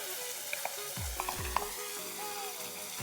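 Fish curry with salt and turmeric is stirred in a pan, a spoon scraping and tapping a few times over a continuous soft sizzle, close and alone.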